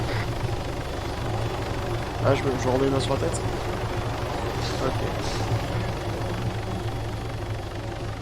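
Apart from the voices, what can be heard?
helicopter taking off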